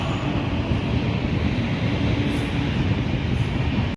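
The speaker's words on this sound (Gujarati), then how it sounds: "ટ્રેન નીકળી છે ભાઈ." A train rumbles steadily past a closed railway level crossing where culvert work is under way, a loud, close, continuous roar of wheels and carriages with no break.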